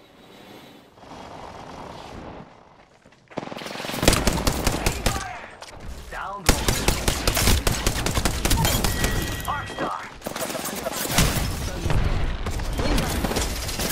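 Gunfire in the video game Apex Legends, loud rapid automatic bursts starting around three seconds in and continuing almost nonstop, with players talking over the shooting.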